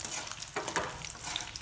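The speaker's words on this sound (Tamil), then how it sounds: "எண்ணெய் ஹீட் ஆயிடுச்சு. உளுந்தம்பருப்பு போட்டுக்கிறேன். காஞ்ச மிளகாய்" Urad dal and dried red chilies frying in hot oil for pirandai thuvaiyal, giving a quiet continuous crackling sizzle with light stirring taps throughout.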